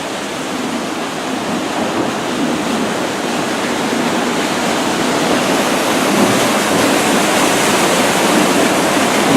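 A huge water wheel beside St. Peter's Church in Salzburg, its rushing, splashing water making a steady, loud broadband roar that builds slightly over the stretch, with no voices.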